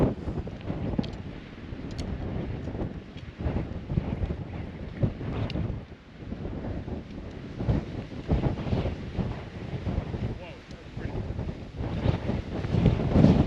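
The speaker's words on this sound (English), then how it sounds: "Man, it's windy." Strong wind buffets the microphone at Triple Divide Pass, a mountain pass on a backpacking route in Glacier National Park, roaring steadily and loudly throughout with gusty surges and no talk.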